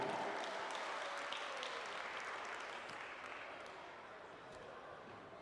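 Audience applause and clapping fill an arena at the opening of a judo tournament, a dense steady roar of many hands that slowly fades over a few seconds.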